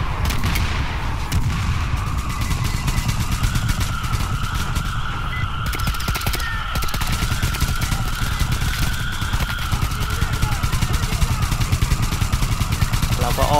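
Gunfire in the Metro Exodus video game, a dense continuous barrage of shots and booms with a sustained tonal hum running steadily through the whole stretch.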